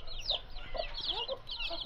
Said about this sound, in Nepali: यहाँ चाहिँ ठुल्ठुलो कुखुराहरू योहरू चाहिँ ठुल्ठुलो कुखुराहरू